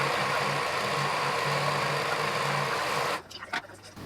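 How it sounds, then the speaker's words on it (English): A serger overlock machine sews the raw edges of fabric for a three-tier shirred summer dress, giving a steady, close motor whir with a low rhythmic hum that runs continuously and then cuts off shortly before the end. "So let's serge."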